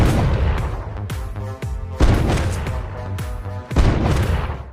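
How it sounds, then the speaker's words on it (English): Gunfire in a film scene: several heavy booming shots with reverberant tails ring out at irregular intervals, loud and close, with no talking. "The sound of gunfire immediately alarmed the sheriff"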